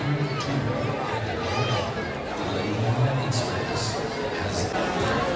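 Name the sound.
dense crowd at a railway station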